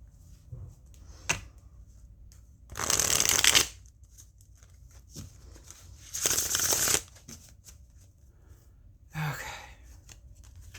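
Cards shuffled in three distinct bursts, each a crisp rapid riffle lasting about a second, with quiet handling sounds and small taps between them.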